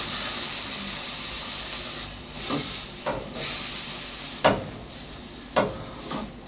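Bacon fries in a pan with a loud, steady sizzling hiss, broken by a few sharp scraping strokes of a utensil against the pan.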